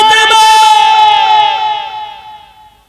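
A crowd at a village religious gathering shouts the takbir chant in one loud, ringing, reverberant burst that tails off over about three seconds.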